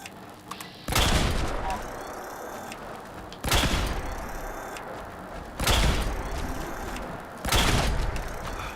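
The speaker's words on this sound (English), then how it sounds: "Gauss rifle doesn't really have the ammo capacity" A Berserker Gauss rifle fires in the video game Fallout 76: four heavy, booming shots spaced a couple of seconds apart, each with a long rumbling decay, over quiet ambient game sound.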